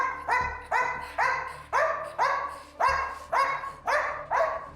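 A dog barks about ten times in a fairly even rhythm, each bark loud, close and sharp with a short tail, while a faint low background hum runs underneath.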